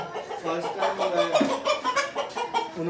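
Chickens cluck and murmur close by in a busy, overlapping chorus, with a person talking faintly underneath.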